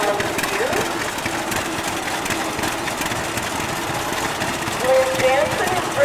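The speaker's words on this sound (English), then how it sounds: "Here we have several antique tractor entries" Antique tractors, a 1928 Oil Pull and a John Deere, idle at an evening town parade, a steady low engine rumble with crowd noise and voices throughout and a brief rising whine near the end.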